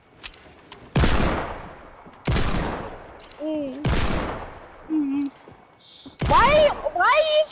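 Heavy hand cannon gunshots from a video game boom at intervals, each with a long echoing tail, while short vocal sounds break in between the shots.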